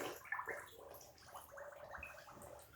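Air bubbles escape from a beaver hide soaking in a pail of water, making soft, faint gurgling and sloshing that comes in uneven bursts, with no voices.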